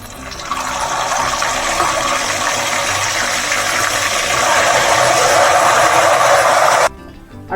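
Salt water poured into hot oil where banana chips are frying gives a loud, steady roaring sizzle for about seven seconds, then it cuts off abruptly, with no voices over it.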